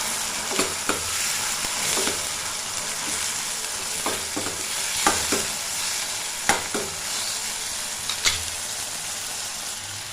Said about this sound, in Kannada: ಇವಾಗ ಕೊಬ್ಬರಿ ಪೀಸ್ ಹಾಕ್ಕೊಳ್ಳೋಣ ಎಣ್ಣೆಯಲ್ಲಿ ಚೆನ್ನಾಗಿ ಫ್ರೈ ಮಾಡಬೇಕು